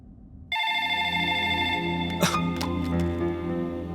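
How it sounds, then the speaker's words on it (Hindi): A telephone rings loudly and steadily with a sustained electronic tone that starts abruptly after half a second, with a couple of brief clicks partway through and no talking. "Phone is ringing."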